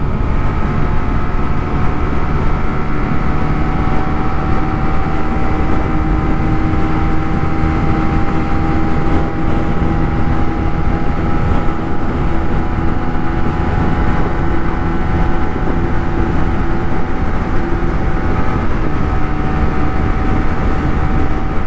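A Honda RSX 150cc DOHC motorcycle, a kapcai, pulls hard in fourth gear toward top speed, its engine a loud, steady drone with wind rush that holds throughout without a break.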